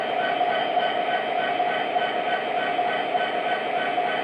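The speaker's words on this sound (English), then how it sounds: "PFA right here is going to make sounds with the locomotive" A model locomotive's sound effects, Norfolk Southern and Chessie engines, play as a steady, fairly loud rumbling train hum that drones evenly the whole time, with no talking.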